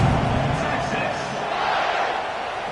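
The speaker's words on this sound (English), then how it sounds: "this crowd is buzzing after that last score." A college football stadium crowd buzzes after a score, a loud, dense roar of voices and cheering that holds steady throughout while an announcer talks over it.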